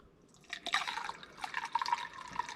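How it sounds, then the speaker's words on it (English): Water poured through a funnel into an air conditioner condensate drain trap at home, a close, gurgling trickle with irregular drips and splashes building over a couple of seconds. "It doesn't take much water to fill that trap up."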